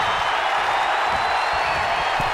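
A wrestling arena crowd in the video game WWE 2K19 roars in a steady, dense wash of cheering and noise, loud and continuous with no letup.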